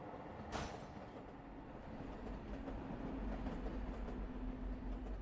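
A train in the Eden Crafters video game runs along its rails with a steady low rumble and faint clatter, after one sharp click near the start. No one speaks.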